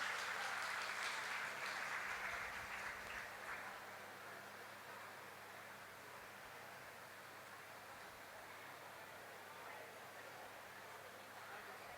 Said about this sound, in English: Can we have a huge round of applause for RJ Nilanjan?